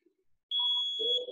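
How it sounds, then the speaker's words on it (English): A workout interval timer gives a single sustained electronic buzzer beep lasting about a second, loud and alone, during a home fitness class. "buzzer."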